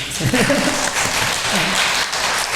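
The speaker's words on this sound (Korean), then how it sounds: "우리 미리 한번 박수 한번 합시다." A church congregation gathered for a shared noodle meal bursts into dense, steady applause that fills the room from start to finish, loud and close.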